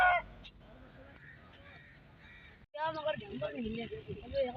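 Ducks and other fowl calling at a village animal market, honking and quacking calls in bursts, with a louder flurry of calls near the end against outdoor market background.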